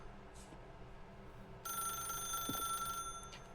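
A telephone rings inside a video game, a bright electronic trill that starts partway through and holds for over a second above a low background hum, with brief chime-like blips nearby.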